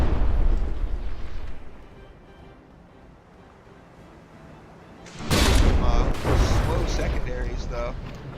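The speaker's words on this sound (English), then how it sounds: "the Melissa fired some shots too from its secondaries" Secondary guns on a frigate in From The Depths fire during a tournament battle, with a sudden burst of sharp, loud blasts after a quieter stretch of low rumble.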